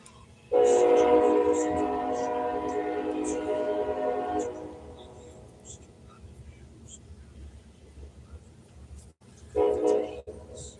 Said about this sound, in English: train going through.